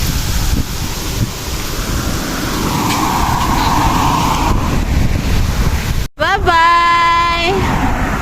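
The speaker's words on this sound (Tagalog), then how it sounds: "Ay, ang hangin." Wind blows outdoors outside a house and buffets the microphone in a steady, rushing roar. Near the end, after a brief dropout, a short tonal vocal sound cuts through.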